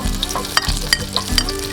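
Onions sauté in hot oil for ulong dinuguan cooked outdoors in a backyard, a loud continuous sizzle with sharp utensil scrapes and taps recurring close by, and no speech.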